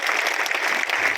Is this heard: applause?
yes